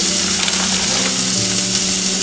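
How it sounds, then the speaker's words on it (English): Burger patty topped with cheese sizzling on a grill, a loud, close, continuous crackling hiss with a faint steady mechanical hum beneath, and no talking. "Gonna let it sizzle on there"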